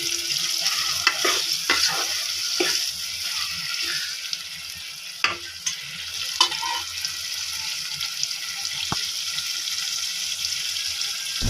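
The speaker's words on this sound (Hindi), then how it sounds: "अभी मैंने इसे लोबिया को ऐड कर दिया। अब इसकी भुनाई करूँगी थोड़ी देर।" Red kidney beans being stirred and fried in masala for a Pakistani-style rajma curry, with steady close sizzling and repeated scraping clinks of a spoon against the pan throughout.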